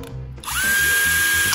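A cordless 12V impact drill/driver spins up with a quick rising whine, then holds a steady, loud, high-pitched motor drone for about a second before cutting off. No one speaks.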